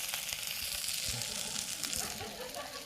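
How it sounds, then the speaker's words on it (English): Cauliflower sizzles steadily in a hot thick-bottomed pan, a continuous crackling hiss with small pops and stirring, close up and fairly quiet. "The reason you want to hear that sizzle right away is that tells you that the pan's hot enough."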